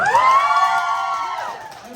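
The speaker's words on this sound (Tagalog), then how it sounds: "patingin naman ang hiyawan ng Team Boys!" The Team Boys crowd at a gender reveal party lets out a loud, sustained cheering shout that holds for about a second and a half, then trails off into quieter crowd noise.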